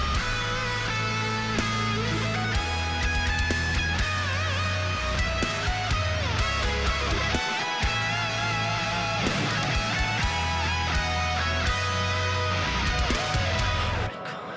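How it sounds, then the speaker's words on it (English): Guitar solo from a deathcore song, a sustained melodic lead over dense, loud distorted guitars and heavy low-end drums, playing continuously with no talking. "Man, I love the guitar solo here because it is,"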